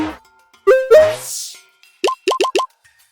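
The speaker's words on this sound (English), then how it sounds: "The system menu is more straightforward, with snappy, clicky sounds to give the user a sense of tactile feedback." Snappy, clicky system menu sounds from the video game Homebound: a few quick plopping blips and a soft whoosh, then four rapid pitched clicks in a row, crisp and isolated.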